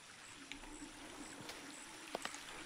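Flowing water powering a bridge mechanism in the video game Shadow of the Tomb Raider, a faint, steady trickle with a few light clicks and splashes over a thin, sustained game tone.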